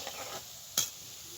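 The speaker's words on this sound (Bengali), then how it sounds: "এবারে এটা আমি লাল লাল করে ভেজে তুলে নেব।" Pakoras made from fresh leafy greens fry quietly in oil, a faint bubbling hiss with one sharp clink or scrape partway through.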